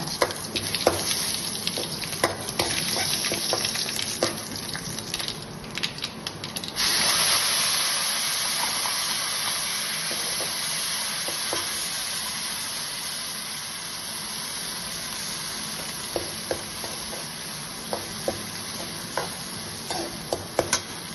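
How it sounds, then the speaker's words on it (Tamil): Garlic and ground paste sauté in a pan for Tamil tomato thokku, giving a steady sizzling hiss with occasional stirring clicks and scrapes that carries on alone throughout. "வெள்ளைப்பூடு நல்லா வதங்கட்டும்"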